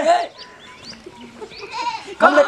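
Goats bleat in a rural village setting, with several wavering calls near and far, the loudest burst at the end, while people talk nearby.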